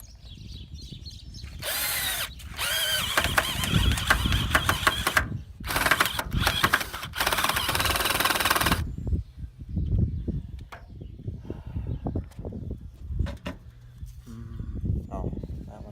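A cheap Walmart power drill drives a screw while building a tiny home, whining in several high-pitched bursts with brief stops, followed by scattered knocks and handling noise as a voice murmurs nearby.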